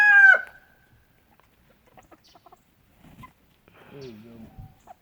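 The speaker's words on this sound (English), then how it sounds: "That's my favorite hen." Backyard hens making a brief sharp squawk at the start, then scattered faint clucks and soft calls, with a person's voice speaking nearby.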